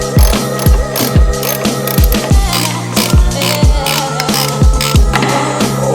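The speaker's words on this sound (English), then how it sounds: "I got the ratchet stuck, dude" Repeated ratchet clicks from a wrench working on a motor mount of an EG hatchback, a dozen or so sharp mechanical ticks in a steady rhythm, loud and close with metallic rattling around them.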